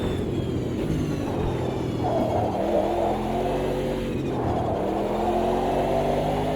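A racing car engine in a sim racing video game revs and shifts through gears, its loud, continuous whine rising and dropping as it accelerates, with no talking.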